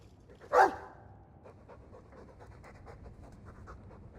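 A Mabari war dog in the video game Dragon Age 2 pants softly and steadily for several seconds after a brief louder huff, over a low game ambience.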